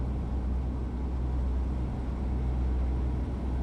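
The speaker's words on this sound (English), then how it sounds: "Some people like the noise of the lorries, so that's why I kept that quite loud." Steady, loud lorry engine drone inside a truck cab in the Euro Truck Simulator 2 video game, a constant low rumble with no talk over it.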